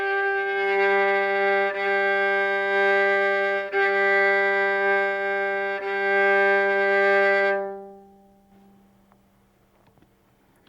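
Violin bowing a half-note exercise on open strings: sustained, steady tones changing every couple of seconds with soft bow changes, four notes in all, then the last note fades into quiet, played alone without talk.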